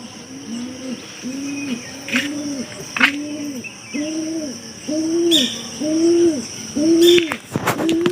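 Domestic pigeons cooing in a steady series of about eight soft, rounded calls, each rising and falling, over a continuous insect-like background hum, with a few brief rustles that may be wingbeats; no one speaks.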